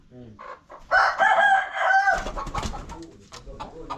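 A rooster crows once, loud and near, a single drawn-out call lasting about a second, followed by rustling, clattering background noise.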